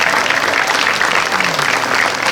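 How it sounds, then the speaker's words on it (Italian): Dense, continuous audience applause for contestants at a regional beauty pageant final, loud and close throughout. "applauso per tutte"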